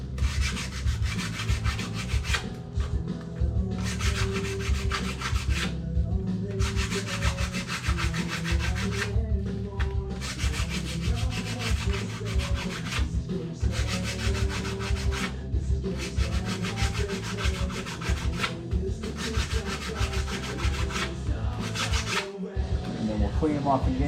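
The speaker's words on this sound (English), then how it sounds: "You just give it a light sanding." Motorcycle clutch plates from a 1976 Harley FLH are scuffed by hand with 60 grit aluminum oxide sandpaper, producing steady rhythmic rasping strokes in bursts with brief pauses, close and alone.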